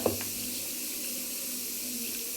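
Water poured into a pot of mutton curry being cooked as a simple mutton varuval, a steady hissing, splashing stream heard up close and fairly loud, continuing without pause for a couple of seconds.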